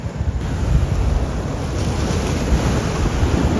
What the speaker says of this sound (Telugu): గైస్ అలలు మాత్రం బీభత్సంగా వస్తున్నాయి ఇటు సైడ్